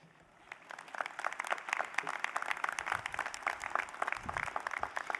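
A graduating class applauding at a university commencement, dense and fairly distant clapping that rises after a quiet start and carries on steadily.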